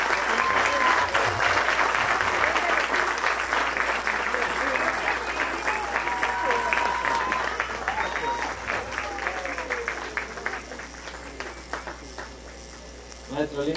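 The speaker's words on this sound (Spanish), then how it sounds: "le pido que le den un fuerte aplauso a Yacu ustedes" A crowd at a live event gives loud, dense applause that gradually thins out, with voices and shouts mixed over the clapping.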